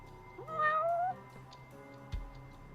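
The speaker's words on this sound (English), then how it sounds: "Where's that cat, by the way? I just heard it." A cat meows once in the video game Judgement, a clear, drawn-out rising and falling call over a low background hum, followed by a faint thud.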